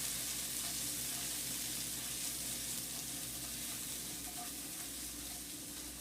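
Onions softening in a pan, a steady broadband sizzle holding throughout at moderate level, close and continuous with no talk.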